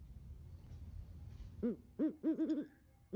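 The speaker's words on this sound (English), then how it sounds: "That's a big ass owl. I expected its hoot to be a little deeper." An owl gives a short series of hoots, one single call followed by a quick run of four or five hoots, fairly close and clear over a faint low background murmur.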